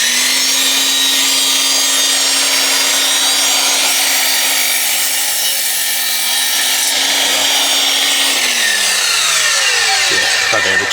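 An Ozito PXCMSS 18V cordless 210 mm compound mitre saw runs at a steady high whine while trimming a piece of wood, then the motor spins down near the end. The cut is loud and close.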